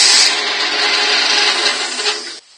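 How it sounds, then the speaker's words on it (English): A friction bowl sander whirs steadily against a spinning wooden bowl on a woodturning lathe, a loud, continuous broadband rubbing hiss that runs unbroken before cutting off abruptly near the end. "spinning the wood, you can keep sanding until those pencil marks disappear"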